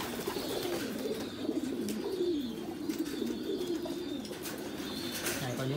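Large pigeons, including a big male, cooing repeatedly in a coop, with low rolling coos running continuously at close range over a faint background.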